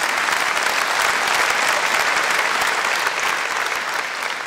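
A comedy club audience breaks into steady, dense applause, loud and close, holding evenly throughout without a break.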